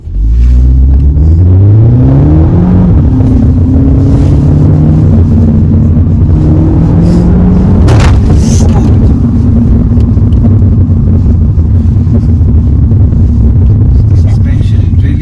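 A Mini Cooper 3-door hatch pulls away in sport mode, its engine climbing through a couple of gears before settling into a steady loud road and wind rumble heard from inside the cabin.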